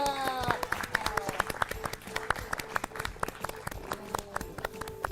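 Applause rings out at a school quiz show, with many hands clapping in a brisk, continuous patter, moderately close and fairly quiet, with a few bright tonal sounds at the start.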